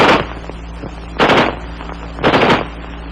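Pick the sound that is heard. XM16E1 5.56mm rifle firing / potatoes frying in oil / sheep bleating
XM16E1 5.56mm rifle firing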